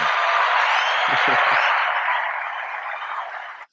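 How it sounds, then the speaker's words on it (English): Steady applause from an audience, a dense wash of clapping that holds for a few seconds before fading out abruptly. "Round of applause."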